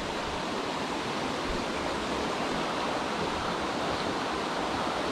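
A river in the Ardennes, swollen after floods, rushes steadily with a dense, constant roar of water, loud and unbroken throughout, with no voices.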